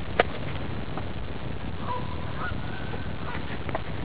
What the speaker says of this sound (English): And now the two tribes of geese are calling to each other.